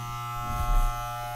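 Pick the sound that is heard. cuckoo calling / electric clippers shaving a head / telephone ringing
electric clippers shaving a head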